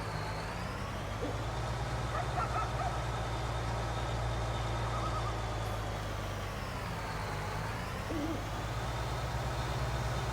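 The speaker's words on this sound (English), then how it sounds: "There's hoot owls" Owls hoot repeatedly over a steady low engine drone in a Farming Simulator 19 night scene set in Washoe, Nevada, the calls rising and falling at moderate distance while machinery hums underneath.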